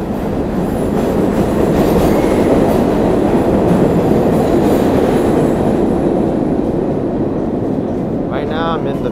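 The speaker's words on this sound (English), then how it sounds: "Busiest subway station in New York City, 42nd Street Times Square" A New York City subway train roars through the busy 42nd Street Times Square station, a loud continuous rumble with rail clatter and a brief wheel squeal near the end.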